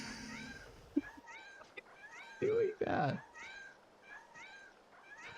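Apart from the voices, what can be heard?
cat meowing in a video game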